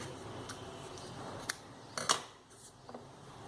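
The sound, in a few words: scissors cutting brown floral tape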